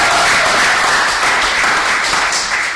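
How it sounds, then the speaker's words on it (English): A short burst of loud, dense audience applause for three panellists on a cricket chat show, continuous clapping from start to finish. "A round of applause for the 3 panellists."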